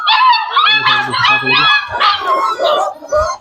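Several young puppies, three male and three female, yip, whine and whimper close by in quick overlapping cries, loud and continuous for a few seconds.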